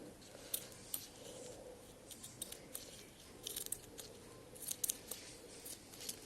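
Scissors cutting material in a craft workshop making a Sant Jordi rose, faint repeated snipping clicks spread irregularly through the clip over a quiet background.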